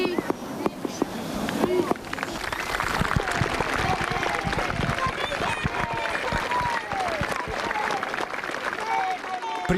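Casale rugby club applauding in memory of Samuele Lazzari, a crowd's sustained clapping that builds after a few scattered claps and continues steadily at moderate distance.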